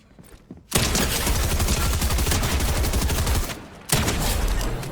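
Dense automatic gunfire rattles in the Fortnite video game, with one long sustained burst, a brief pause and then another loud burst, close and continuous.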